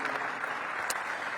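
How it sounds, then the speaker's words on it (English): A dense wash of clapping from a crowd at an economic partnership annual meeting, steady and sustained throughout without a break. "let's give her a round of applause and thank you for what you do"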